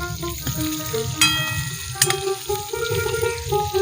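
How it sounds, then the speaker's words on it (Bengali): Pieces of snakehead fish fry in hot oil, a moderate sizzle broken by utensil clinks and stirring noises close by. "গরম তেলে দিয়ে এবার ভেজে নিচ্ছে"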